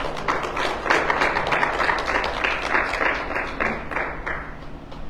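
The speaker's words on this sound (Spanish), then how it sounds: "Dale un aplauso fuerte a Jesús" Congregation applause during a Sunday church service, a dense spread of clapping that holds fairly steady and then thins out toward the end, with no talk over it.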